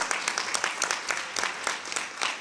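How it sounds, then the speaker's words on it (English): A short burst of audience applause for conference organizers at a UN women's health event, dense and fairly distant, with individual claps standing out in a quick irregular rhythm throughout. "let's give a round of applause to the organizers"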